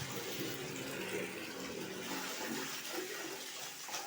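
Cool bath water runs in a steady, close rush, a continuous gushing stream with no pauses.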